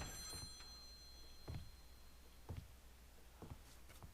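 A telephone rings in Devil May Cry 3: Dante's Awakening, a steady series of short bell bursts about once per second over a low hum of game background, close and fairly quiet.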